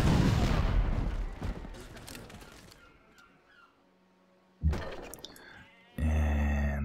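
Gatling gun attack in the strategy game Civilization 5, with a dense burst of rapid firing and booming at the start that fades out. Separate short unit sound effects and game tones follow.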